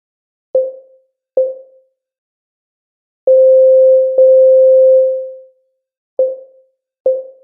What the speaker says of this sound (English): it's just a sine wave, a plucky little sine wave